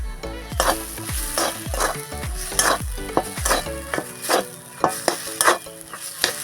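Ground spice paste sizzles and fries in a pan for potato filling for pea-pod chops, with repeated stirring scrapes and clinks over a steady close sizzle.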